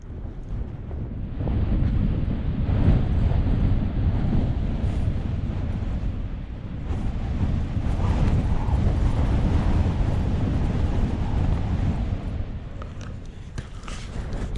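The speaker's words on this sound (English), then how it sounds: "It's big wind, it's a bit worrying actually." Strong night wind buffets a tent on Helvellyn summit in a continuous loud roar and rumble, gusting heavily against the microphone with no letup and no voices.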